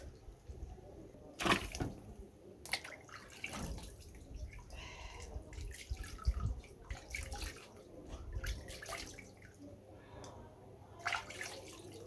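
Wheat being washed by hand in water for village-style keşkek, with close, irregular splashing, sloshing and dripping in short bursts against a quiet background.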